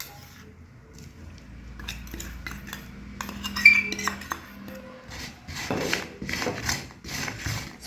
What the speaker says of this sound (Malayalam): സ്പൂൺ വെച്ചൊന്ന് നല്ലോണം നെല്ലിക്ക മിഠായിൻ്റെ എല്ലാ സ്ഥലത്തും പഞ്ചസാരപ്പൊടി പറ്റുന്ന പോലെ ഇളക്കി കൊടുക്കാം